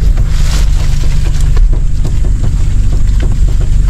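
A motorboat engine drones steadily and loud throughout, a continuous low rumble with wind buffeting and water noise over the top, no voices.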